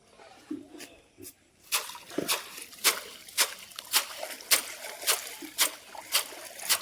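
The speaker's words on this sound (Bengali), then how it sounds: "চলো ঝাঁটাটা ধুই" A broom being rinsed with water on a misty morning, with repeated sharp splashes and sloshes every half second or so, close and fairly loud, with quieter dribbling early on.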